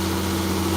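An International 9130 tractor's diesel engine runs steadily at high RPM with the air conditioning on, a loud, continuous drone with strong low tonal hum and no talk.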